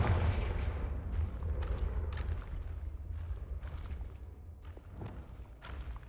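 Repeated booming blasts of the Confringo fire spell in the Hogwarts Legacy game, a series of loud thuds and bursts with rumbling low end, several sharp hits spaced across the stretch.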